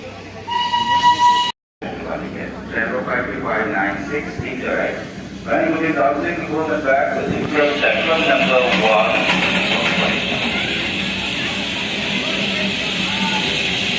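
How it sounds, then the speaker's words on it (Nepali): The Darjeeling Himalayan narrow-gauge toy train rolls into the station with a steady rumble and clatter, a brief whistle at the start, while a crowd of tourists chatters loudly throughout. "Darjeeling toy train"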